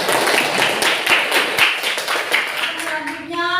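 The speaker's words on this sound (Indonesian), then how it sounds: "Jadi beri tepuk tangan dulu untuk Rastina." A classroom gives a student a round of applause, steady mixed clapping close by, fading out toward the end as a voice begins to speak.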